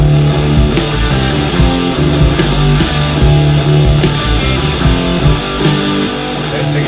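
Full band mix of drums, bass guitar and distorted guitars playing together, loud and dense with steady driving drum hits throughout, no talk.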